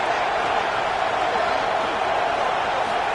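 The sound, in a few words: football stadium crowd cheering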